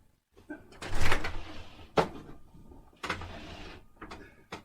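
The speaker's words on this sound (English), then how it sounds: "Now we've opened the door for Elijah" A house door opened during a Passover Seder produces a series of clunks, rattles and handling noises from the latch and frame, spaced over several seconds in a quiet room.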